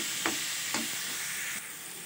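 Olive pickle with slit green chillies and no water fries in a pan with a loud, continuous sizzle, broken by a couple of stirring scrapes close up.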